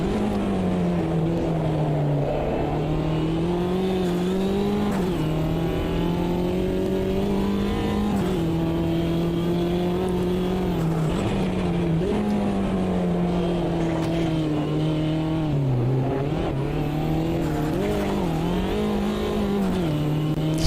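Race car engine in the Automobilista 2 sim, droning steadily near its upper revs with a wavering pitch throughout, loud and continuous with no speech.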